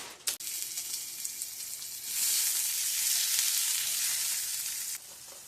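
An egg frying in a pan sizzles steadily, close and loud, swelling into a stronger hiss partway through after a brief knock at the start, with no voices.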